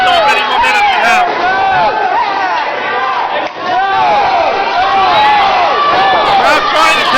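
An indoor wrestling crowd shouts and jeers at the referee in an underground promotion, a dense, loud wall of voices that runs steadily with only a brief dip midway.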